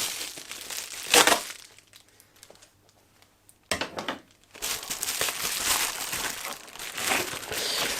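An Amazon shipping package is cut open at home: sharp crackles and crinkling of cardboard and plastic wrap, with a loud burst near the start, a quieter pause, then a longer stretch of rustling and tearing close to the mic.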